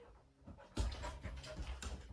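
A dog pants in quick, breathy bursts during spin-trick training, the huffs growing louder and more steady after a quiet start and carrying on close by with no talk.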